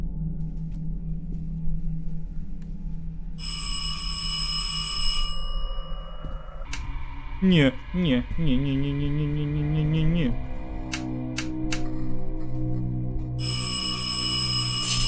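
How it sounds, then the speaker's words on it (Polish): Electronic doorbell chiming repeatedly inside an old communist-era flat at 3 a.m. in the horror game From the Darkness, high bright tones recurring over a droning ambient bed, with someone speaking briefly. "Skąd to dzwoni? Gdzie to dzwonek? Do drzwi jest dzwonek."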